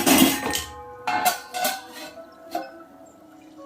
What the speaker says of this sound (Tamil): நம்ம மூடி வச்சுக்கலாம்.